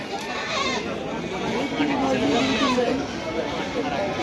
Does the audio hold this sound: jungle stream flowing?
no